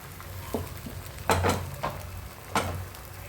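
Food frying in oil already heated in a pan, heard as a low steady hiss broken by a few sharp scraping and clinking strokes, close and alone without talk.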